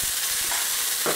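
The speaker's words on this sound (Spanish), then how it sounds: "echamos nuestro tacutacu que vaya friendo" Tacu tacu, a Peruvian rice-and-bean cake, frying in hot oil in a pan, with a steady loud sizzle and crackle that continues throughout, with no talk.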